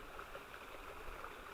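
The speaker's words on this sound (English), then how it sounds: "we've got another big pool and another waterfall" A waterfall pours into a big pool, a steady broadband rush of falling water heard faintly and evenly throughout, with no voices.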